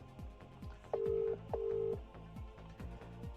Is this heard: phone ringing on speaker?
yes